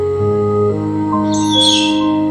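A small bird gives a loud, bright chirping call that rises near the end, close and clear over a steady low hum.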